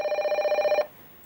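A telephone rings with a rapid trilling electronic bell that holds steady for just under a second and then cuts off, leaving quiet room tone, close and clear with no talk.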